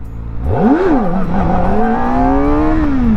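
A Kawasaki Ninja ZX-4R small-displacement inline-four motorcycle revs hard during a wheelie, loud and close, its pitch climbing sharply, dipping briefly, then holding a high sustained wail before easing slightly at the end.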